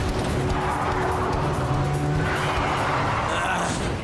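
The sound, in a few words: car driving and skidding in a cartoon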